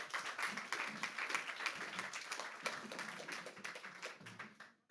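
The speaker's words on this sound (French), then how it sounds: "Et je vous demande de l'applaudir." Audience applause at a WE ARE DEMAIN talk on mobility in 2050, a fairly quiet, continuous patter of clapping from a seated crowd with a few more distinct claps, fading out at the very end.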